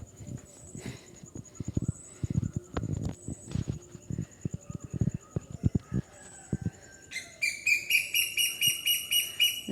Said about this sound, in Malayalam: കിളികളൊക്കെ സൗണ്ട് ഉണ്ടാക്കാൻ തുടങ്ങിട്ടോ.